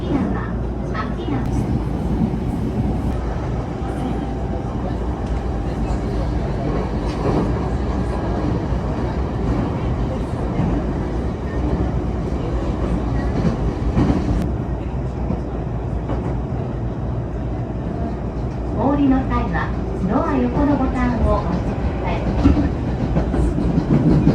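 A commuter train travelling from Tokyo toward Akigawa Valley rumbles steadily along the rails, heard from inside the carriage as a constant low roar with faint clatter, while passengers talk and an announcement plays near the end.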